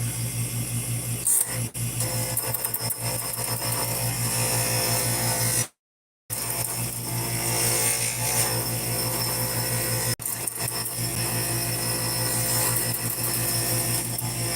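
Small lathe turning pins and beads, a steady close mechanical whir and hum running throughout, briefly cut out once, with a few sharp clicks and no talking.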